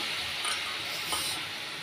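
Coated potato pieces for pakodi hiss and sizzle in hot oil in a kadhai, a steady broad frying hiss at moderate level with small bursts as pieces drop in.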